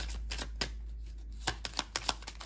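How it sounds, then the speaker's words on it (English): Romance angel oracle cards are shuffled by hand in a quiet room, giving a run of soft, quick riffling flicks and taps in uneven bursts, close and faint. "I'm gonna shuffle one more time."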